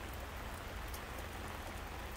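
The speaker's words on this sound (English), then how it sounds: "supposed to rain off and on all freaking day long" Steady rain falls around an umbrella-covered outdoor space, a dense even hiss of drops pattering on surfaces throughout, with no one talking.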